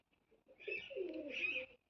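Pet pigeons, a pair of hens, give one soft cooing call lasting about a second, fairly close and alone with no talk.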